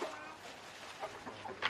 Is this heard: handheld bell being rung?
no